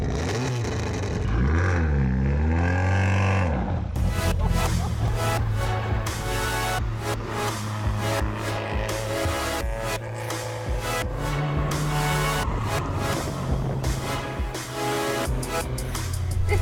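A small Renault car is driven by someone on public roads near a French Grand Prix venue, engine revving and accelerating up close and loud, gears changing, with road and cabin noise steady throughout.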